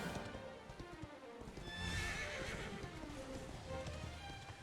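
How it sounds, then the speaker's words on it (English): In the video game Dragon Quest XI, a horse whinnies loudly while its hooves clip-clop steadily throughout, with layered game sounds behind them. "Let's giddy up on the horse now."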